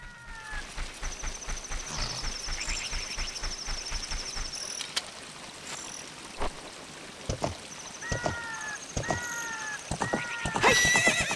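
Horse hooves clip-clop at a steady gallop in the video game Ocarina of Time, with repeated neighs and whinnies, game chimes and a flowing ambient bed beneath, fairly close and moderately loud.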